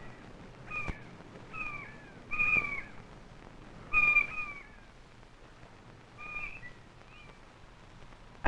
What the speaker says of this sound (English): can you hear all those seagulls?